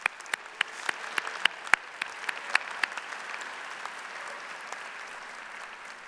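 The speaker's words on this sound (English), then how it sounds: "Graduates, let's give our family and our community a round of applause." Applause at the 2023 Drexel University College of Engineering commencement ceremony, with a few sharp nearby claps over a steady wash of distant clapping from a large crowd that gradually thins and fades.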